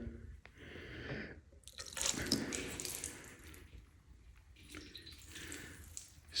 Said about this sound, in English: Let's pour some water on it. So we'll come right up here to the fairing.